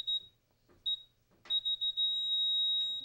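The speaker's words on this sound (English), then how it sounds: "Is it supposed to stop beeping when you're at the right elevation?" A laser level receiver on a gypcrete floor job gives a few short, sharp, isolated beeps, then a quick run of beeps that merges into one steady solid tone, clear over a quiet room.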